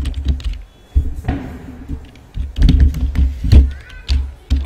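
Someone taps and types on a wireless computer keyboard, giving irregular clusters of close, fairly loud key clacks and thunks with brief pauses between bursts.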